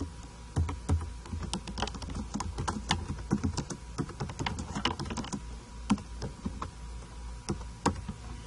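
Rapid keystrokes on a computer keyboard, close and steady, with irregular clicks and occasional louder taps running throughout without talk.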